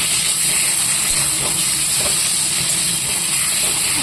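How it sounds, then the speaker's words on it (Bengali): Water boils hard in a cooking pot while taro greens are being cooked: a steady, loud, broadband hiss with faint bubbling that holds evenly throughout, with no talk. "একদম জল ফুটিয়ে নিয়েছি"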